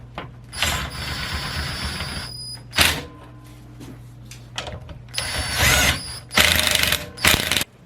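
A ratchet wrench with a 9/16 swivel socket clicks in several short bursts during a 727 transmission build, with quiet gaps and a steady low hum between the bursts.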